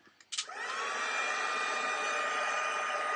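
A hair dryer switches on after a couple of clicks and settles into a steady, close, whooshing whine while it warms a folded paper puzzle card, with no voices.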